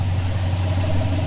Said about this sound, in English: no muffler, no resonator, just straight pipe. And it sounds very nice.